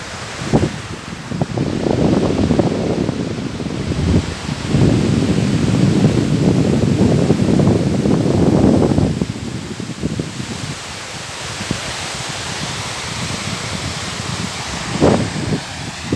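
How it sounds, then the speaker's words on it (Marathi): Sherpe-Napne perennial waterfall in Konkan pours as a steady broadband rush, swelling louder in the middle stretch and easing later, with occasional brief knocks. "इथे बाराही महिने पाणी असतं बारमाही धबधबा आहे"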